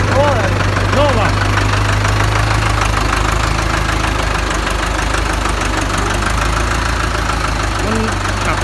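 Ford 6610 tractor engine running with a loud, continuous mid-pitched diesel rumble and knock, close by, with a voice briefly heard over it near the start and end.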